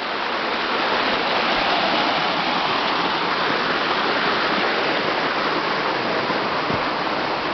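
A short waterfall roars steadily up close, a dense, unbroken rush of falling and splashing water that fills the scene evenly from start to finish.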